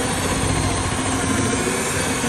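A drill bores steadily into material during house construction, making a loud, continuous grinding roar with no breaks or talking.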